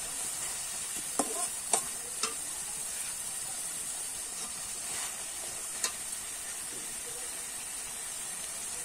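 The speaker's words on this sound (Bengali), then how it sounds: "এবার আমি নেড়ে চেড়ে ভালো করে ফুটিয়ে নেব।" A pan of flat beans curry simmers with a continuous sizzle, broken by a few sharp clinks and scrapes of stirring.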